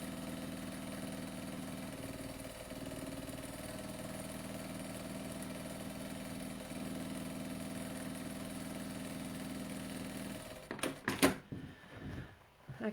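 A sewing machine stitches a quarter-inch seam on a fabric project bag, giving a steady, even motor whir for about ten seconds. Clattery handling noises follow as the stitching stops.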